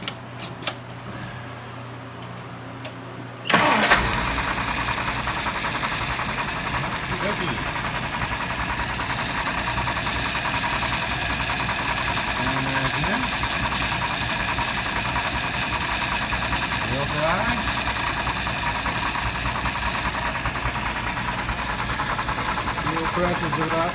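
Engine cranking and catching after a quiet stretch, then settling into a loud, steady idle a little over 600 RPM that runs on continuously with a mechanical hum and faint knocking, and a person talking nearby.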